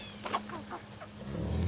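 Backyard chickens give several short, close clucks in an irregular rhythm, followed by a low rumbling at the end.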